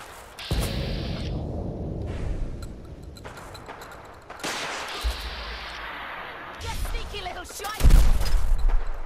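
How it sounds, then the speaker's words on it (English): Rocket launcher fire and explosions in the video game Fallout 4, with heavy booms and bursts of gunfire mixed into a noisy battle soundscape, loud and up close, with someone talking over parts of it. "God, they have rocket launchers."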